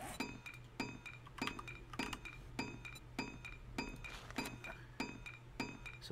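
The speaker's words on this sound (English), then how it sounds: "So broken glass," Footsteps crunch over broken glass in the 7 Days to Die video game, a steady walking rhythm of sharp clinking crunches about every half second, close and clear with a faint low hum beneath.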